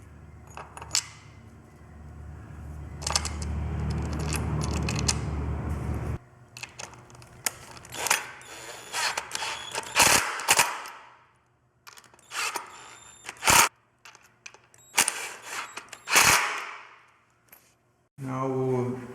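Three bolts fastened on a tri-bearer while assembling a Splendid Twin desk: close clicks, clanks and metallic rattles of tool and hardware, spaced irregularly, with a brief stretch of handling noise at the start.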